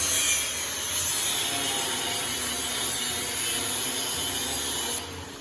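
Steady, loud abrasive grinding as surplus metal is cut off a 1956 car chassis set on a chassis table, a continuous rough whine that drops off sharply near the end.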